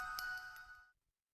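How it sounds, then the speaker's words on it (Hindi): A short melodic chime rings out with bright tinkling tones, then stops abruptly into silence. "और फिर फोन की रिंगटोन बदल गई,"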